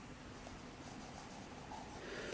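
Pen or pencil writing on paper during a maths lesson, a steady continuous scratchy rustle close by with no talking.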